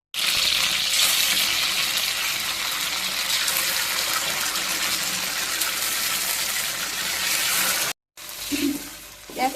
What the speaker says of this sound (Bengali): দেখো একটু কত সস দিয়ে এভাবে নাড়াচাড়া করে উঠিয়ে ফেলবো খাবারটা